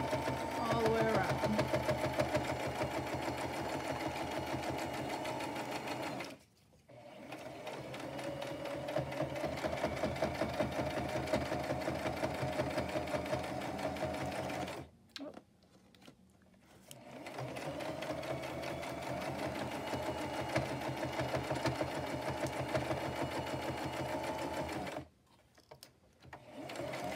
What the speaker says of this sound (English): I'm going to zigzag it around and do just a funky sew